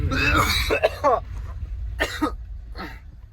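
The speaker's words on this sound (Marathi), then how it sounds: "मला खोकलाच लागला" A brief bit of voice, then two sharp, separate coughs about a second apart, fairly close.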